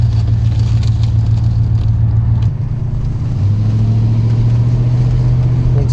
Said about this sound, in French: là ronfle un tout petit peu parce que l'échappement est percé